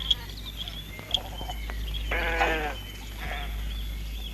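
A male goat bleats once up close, a wavering nasal cry lasting under a second, followed by a fainter second call over a steady low hum and a few small clicks in a domestic setting.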